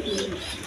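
Pigeon cooing from a Banja pigeon at a breeding farm with eggs and chicks, heard as a short, close low coo with faint background noise and no talking.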